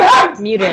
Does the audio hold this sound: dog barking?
yes